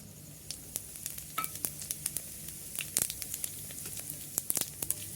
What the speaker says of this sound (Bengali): তেলটা গরম হয়ে গেছে এবার আমি জিরেটা দিয়ে দেবো এর মধ্যে